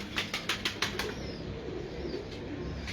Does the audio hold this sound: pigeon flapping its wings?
yes